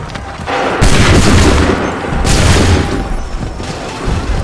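Musket volleys crack out in Assassin's Creed III, two heavy booming bursts of massed gunfire with rumbling tails, loud and close amid a battlefield din.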